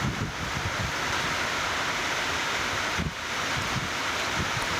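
Stormy wind during a thunderstorm with heavy rain roars as a dense, unbroken rush buffeting the microphone, with one brief dip partway through and no thunder clap standing out.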